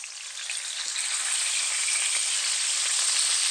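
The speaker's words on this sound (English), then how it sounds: "This is how I like to cook bacon." Steady, dense sizzling of bacon frying in a pan, a continuous crackle with tiny pops, close and fairly loud, no voices.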